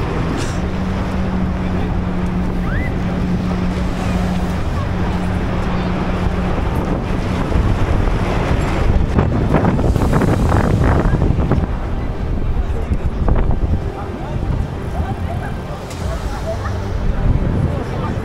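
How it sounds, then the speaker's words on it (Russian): Powerful hurricane wind roars by the sea in a continuous loud rush, buffeting the microphone, with surging gusts and a constant low rumble of surf. "Ветер прям все раскидывает, очень мощный"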